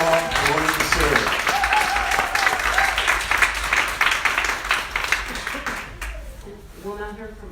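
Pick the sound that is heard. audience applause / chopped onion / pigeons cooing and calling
audience applause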